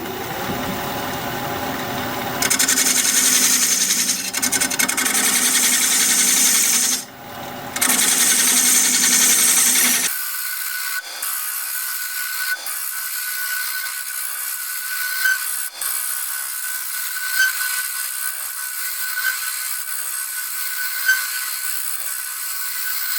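A carbide tool cuts Kamani wood spinning on a lathe, giving a loud, rough scraping hiss for about ten seconds with one brief break, then a much quieter hum from the lathe with faint scattered ticks.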